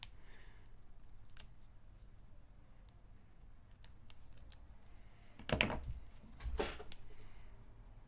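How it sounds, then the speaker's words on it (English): Excess material being cut off a multi-piece designer toy mold: quiet handling noises followed by two sharp, close snips near the end. "I'm just going to chop off the excess here"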